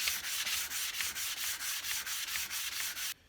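Steady back-and-forth hand sanding of a Stanley 220 block plane on 800 grit abrasive, about a dozen even strokes in a regular rhythm, close and clear, stopping abruptly near the end.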